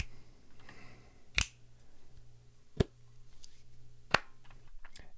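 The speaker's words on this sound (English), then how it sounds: "I've got this thing here that's just a bunch of recordings of different claps that I used this microphone for" A handful of sharp, isolated hand claps recorded as samples, spaced more than a second apart against a quiet background with a faint steady hum.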